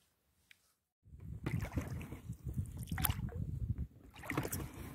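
A small boat gets under way on a river in early October, setting off to place pike traps, with a steady rushing wash of water and hull noise starting after a second of near silence and continuing close and fairly loud.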